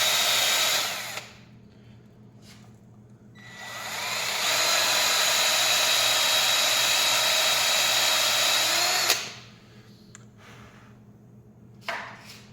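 A power drill with a taper bit whines at high speed boring into a wooden ring blank, widening the hole to 1/2 inch, in two bursts, the second long and steady, separated by quiet pauses, with a few short clicks afterward.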